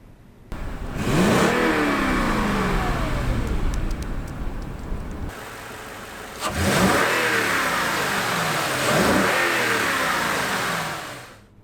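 A 2016 Toyota Land Cruiser's naturally aspirated 5.7 liter V8 cranks and fires up, settles into a rumbling idle, then revs sharply several times, close and loud with no talking.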